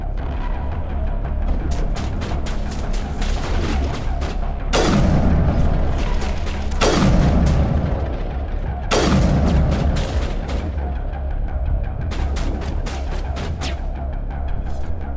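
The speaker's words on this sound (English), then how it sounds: "She's firing through her cover." Enemy fire in Mass Effect on Feros, sharp rapid shots in clusters with several heavy booming blasts standing out loud and close.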